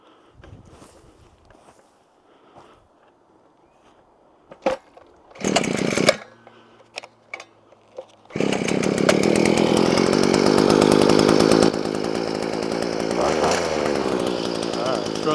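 A gas two-stroke VEVOR fence post auger digger is pulled and started after some handling clatter and brief starter attempts, then roars into a loud, steady buzzing run that shifts slightly in pitch as it works.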